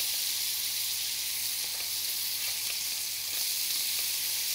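Beef frying in a pan as the pieces are turned, a loud continuous hissing sizzle with a few faint scraping clicks, no talk.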